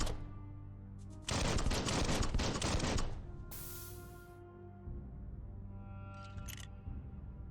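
Automatic gunfire in the video game Biomutant, a dense, loud burst lasting about two seconds over a humming game soundtrack, followed by a brief hiss and quieter clicks.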